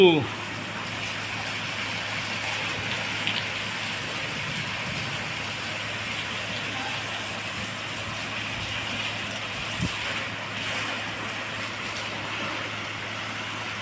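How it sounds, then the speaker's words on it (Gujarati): Heavy rain driven by strong wind roars in a steady, dense wash, probably beating on metal roof sheets, with occasional gusty swells and a faint thump or two; no one speaks. "ફૂલ પવન સાથે વરસાદ ચાલુ."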